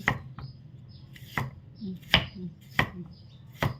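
A knife slices sheets of pickled bamboo shoot against a board, giving about five sharp, close chops at uneven intervals with quiet scraping between them.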